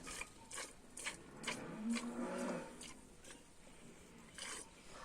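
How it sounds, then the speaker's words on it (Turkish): A cow moos once in a long, low bellow, with soft clicks and rustles around it in a quiet outdoor setting. "Şu ko- inek var ya nasıl bağırıyor"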